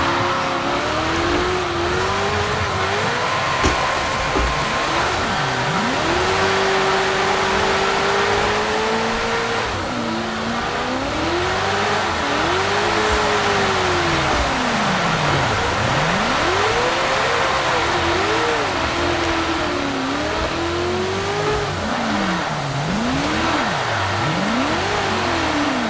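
A V8-powered Renault 8 restomod drifts, its engine revving and swooping up and down continuously with bursts of tyre squeal, loud and sustained throughout without speech.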